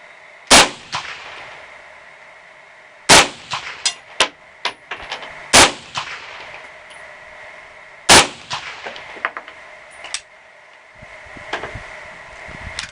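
An M1 carbine, GM Inland .30 caliber, fired outdoors: about five sharp, loud single shots spaced a few seconds apart, with metallic clinks and action noises between them.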